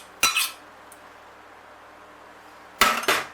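A spoon stirs yogurt into curried chicken in a pan, giving two separate bursts of metallic scraping and clinking a few seconds apart, with near silence between them.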